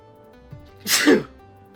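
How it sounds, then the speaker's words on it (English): A single loud, close sneeze, a short sharp burst preceded by a faint intake of breath, in an otherwise quiet room. "Oh, sorry, I sneezed."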